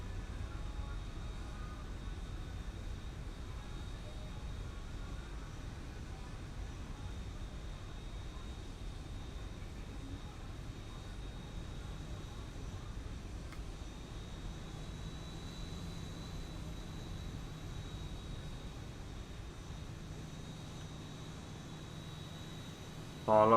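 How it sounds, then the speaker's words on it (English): Boeing 737 flaps retracting after landing in the X-Plane 11 flight simulator, heard as a steady engine and airflow roar with a faint whine that shifts midway, continuous and fairly quiet with no talk. "Oh, I love the sound of the flaps coming up."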